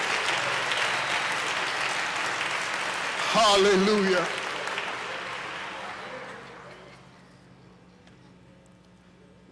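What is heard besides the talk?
congregation clapping hands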